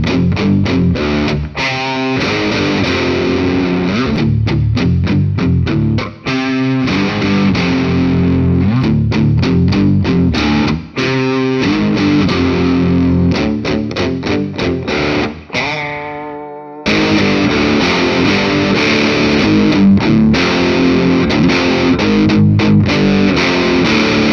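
Guild S100 Polara electric guitar played through heavy distortion, loud chugging riffs with rhythmic palm-muted stops and brief pauses, alone without talk.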